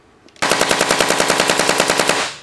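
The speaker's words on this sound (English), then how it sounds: "Smooth shooting gun." Rapid burst of shots from a Planet Eclipse GEO 3.5 paintball marker, black and grey, firing in a steady, fast, evenly spaced string for about two seconds after a brief quiet start, loud and close.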